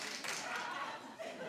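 A studio audience at a daytime talk show breaking into scattered applause, a short, fairly soft wash of clapping that swells and fades within a second or so.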